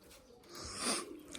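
A soft pigeon coo, faint and close, rising briefly over a quiet hiss of background noise, after pigeons are bathed in tick medicine.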